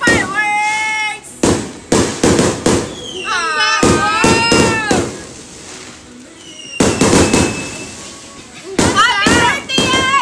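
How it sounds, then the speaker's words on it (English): Fireworks going off at a birthday celebration, bursting in repeated clusters of sharp bangs and crackles, with people talking and cheering between and over the blasts. "Ayan, may fireworks!"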